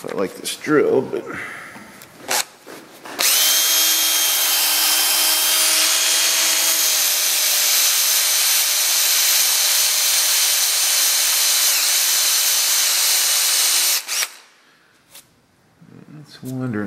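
A power drill drives a screw extractor in one continuous, loud, high whine lasting about ten seconds, with brief clatter and a voice before and after.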